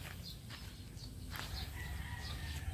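A mother hen of a brood of chicks clucks and calls nearby in a farmyard, short throaty sounds repeating over steady background noise.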